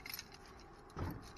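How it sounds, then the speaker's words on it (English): Faint, brief jangle of a small bunch of metal keys found in a storage unit, a light chiming rattle lasting about a second with a slightly louder shake near the end. "Nope, there's keys."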